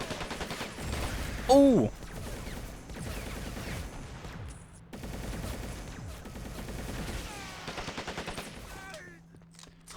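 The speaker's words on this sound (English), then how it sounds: "Let's see who has the first say in this first bloody firefight." Rapid automatic gunfire from a team firefight in Planetside Arena rattles almost continuously in dense overlapping bursts, with a short exclamation from a player.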